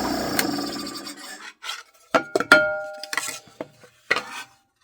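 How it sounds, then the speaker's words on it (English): A drill bit bores through wood, giving a dry rasping grind that comes in short bursts and stops, close up and fairly loud, with no talk. "And then I press down and drill through."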